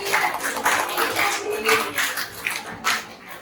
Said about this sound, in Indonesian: jadi tepuk tangan kembali